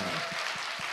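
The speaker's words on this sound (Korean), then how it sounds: "박수 한번 주세요" A studio audience claps for an award winner on a Korean talk show, giving a brief, steady patter of applause at moderate volume with no voices over it.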